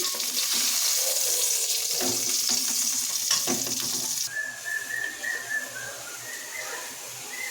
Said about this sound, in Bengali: এবার পটলগুলো ভালো করে নাড়াচাড়া করে সুন্দর লাল লাল করে ভেজে তুলে নেব